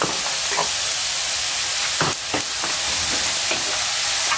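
Cabbage stir-fried for bihun goreng, fried rice vermicelli, in a hot pan: a constant loud sizzle with scraping spatula strokes and clattering stirs at irregular intervals, close up.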